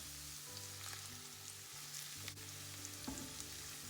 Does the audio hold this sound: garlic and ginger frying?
yes